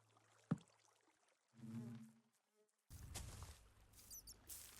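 Bees buzz in the video game Minecraft, a short droning hum after a sharp click, followed by a louder, rougher buzzing stretch near the end.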